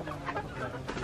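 Chickens clucking briefly, soft and a bit distant, in short choppy bursts.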